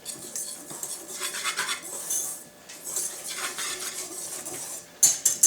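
Flour, baking soda and salt are stirred in a bowl for cookie dough, a utensil scraping and clinking against the sides in quick, uneven strokes, with a sharper clatter at the very end.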